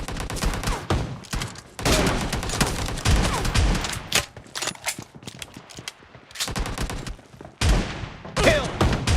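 Loud, dense bursts of gunfire in a shotgun-only team deathmatch video game using the S686 shotgun, with brief gaps between clusters of shots.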